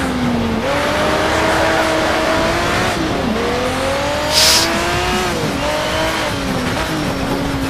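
A McLaren F1 races in Need for Speed Shift, its engine loud and continuous, pitch climbing through gears with shifts and a brief tire squeal, no talk heard.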